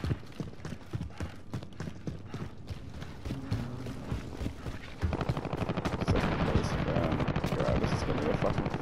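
Rapid gunfire in Call of Duty Warzone Plunder mode, rattling bursts of shots that grow louder and more continuous midway, close and dense.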